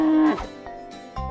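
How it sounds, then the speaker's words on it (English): A cow's low, drawn-out moo heard up close and alone, the tone sliding downward before another moo-like call rises near the end. "Oh, this is a cow. Wow, it's cow."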